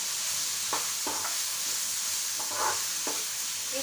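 Prawn masala being stirred in a pan with turmeric and red masala, soft steady sizzling broken by several short scrapes of the spoon against the pan, fairly quiet.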